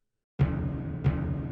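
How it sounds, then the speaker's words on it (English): Orchestra percussion preset on a Korg M1 sounds two deep drum hits in a row, each with a sharp attack and a sustained resonant tail, close and clean with no voices. "orchestra percussion with the M1."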